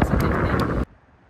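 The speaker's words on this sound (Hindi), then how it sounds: "ये जितनी तेज हवा है यहाँ पे" Strong outdoor wind buffets loudly in a broad roaring rush for under a second at a scenic spot, then cuts off abruptly into near silence.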